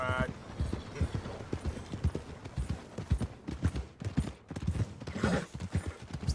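Horse hooves clip-clop steadily along ground in a video game, close and rhythmic, while voices talk intermittently over them.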